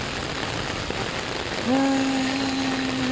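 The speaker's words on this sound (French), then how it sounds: "c'est moi qui marche sous la pluie" Steady rain falls outdoors in South Korea while someone walks through it, a constant close hiss, with a faint tonal hum rising partway through.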